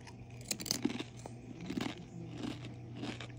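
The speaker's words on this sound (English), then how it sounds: "let's take a bite, you guys" Quest protein chips bitten and crunched up close, a few sharp crisp bites followed by steady chewing crunches, with no talking.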